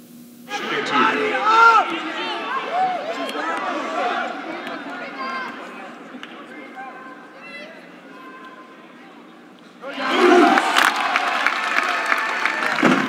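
Spectators at an Oklahoma sports game chant and yell a traditional cheer, a lively crowd roar with rising shouts that drops back and then surges into a louder burst of cheering.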